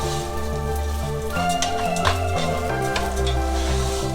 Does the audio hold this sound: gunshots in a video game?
no